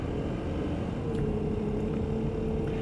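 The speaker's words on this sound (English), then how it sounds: "Freaking garbage truck." A garbage truck moves through slow morning commuter traffic, its engine a steady, continuous low rumble that stays fairly loud and even throughout, with no voices.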